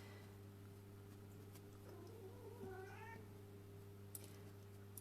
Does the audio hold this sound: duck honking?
no